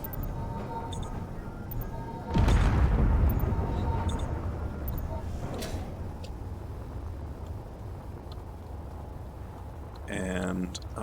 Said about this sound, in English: Gonna hear the explosion go off behind me.